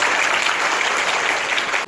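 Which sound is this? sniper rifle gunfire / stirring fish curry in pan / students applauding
students applauding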